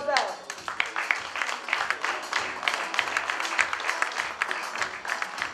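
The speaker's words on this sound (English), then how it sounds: "That is all the applause for the wine" Lively audience applause and cheering at a small business awards ceremony in St. Lucia, with a burst at the start and uneven clapping continuing under crowd voices.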